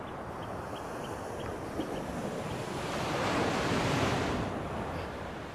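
Sea surf washing over a volcanic beach of round stones, a continuous roar with wind buffeting the microphone, swelling louder midway as a wave rolls up the shore.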